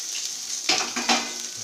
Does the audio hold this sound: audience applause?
no